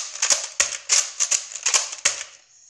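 A white Nerf Retaliator blaster is loaded with a series of sharp plastic clicks and snaps, about eight quick crisp bursts close by in an uneven rhythm, alone without talk.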